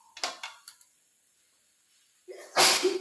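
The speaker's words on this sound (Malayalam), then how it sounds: "കുരുമുളക് പൊടിയുടെ മണം അടിച്ചിട്ട് തുമ്മുന്ന." A single sharp sneeze set off by the smell of pepper powder bursts out near the end, after a few light clinks of dishes and cutlery in a home kitchen.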